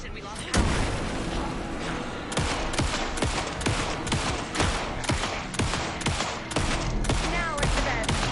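Rapid, loud bursts of gunfire in the video game Alan Wake 2 crackle repeatedly in close succession, punchy and continuous across the whole stretch, with no clear pauses.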